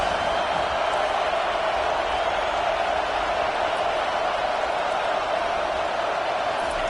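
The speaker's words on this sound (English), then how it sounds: "Big third down as the crowd gets behind this defense." Dense, constant roar of a stadium crowd in a football video game, loud and unbroken across the whole stretch with no distinct voices standing out.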